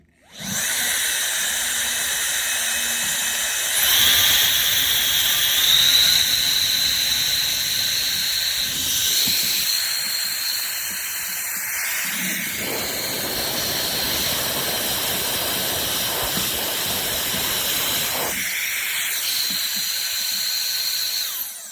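A small electric air duster blower with a brushless motor rated at 130,000 RPM whirs with a steady high-pitched whine and airy hiss, its pitch and loudness stepping up and down through several speed settings.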